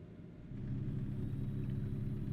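Car passing in American Truck Simulator, a steady low engine rumble that swells slightly and holds, moderately close, with no talk over it.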